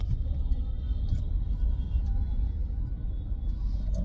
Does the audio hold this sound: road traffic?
yes